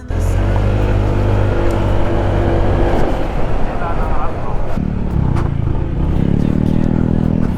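A group of about twelve motorcycles rides together on a road toward a river in Pangasinan, engines droning loud and close with shifting revs, gear changes and clatter, while a rider talks over the noise.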